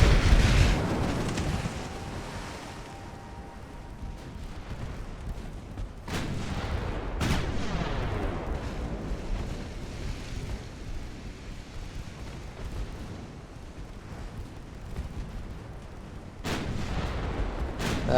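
Naval main guns fire in Ultimate Admiral: Dreadnoughts, an 1890s-era warship battle, with heavy booming salvos at the start and again around the middle and end, each followed by a long rumbling roar over a steady windy background.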